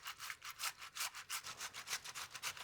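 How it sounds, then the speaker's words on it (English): Ripe tomato halves are grated on a metal box grater over a bowl, making quick, even, rasping strokes at about five per second, soft and close, with no talk. "You just take a box grater, set it over a bowl, cut your tomato in half, and then grate it."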